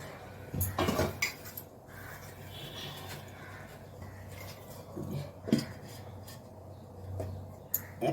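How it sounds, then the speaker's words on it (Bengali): Metal clinks and a clatter as a lid goes onto a steaming pot of baked rasgulla, a few sharp knocks over quiet background, with faint voice nearby. "এবার একটা ঢাকা দিয়ে দিতে হবে।"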